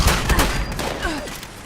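Gunfire in the video game Fallout 76, a quick burst of sharp, loud shots fired close together within a second or two, each with a short echoing tail.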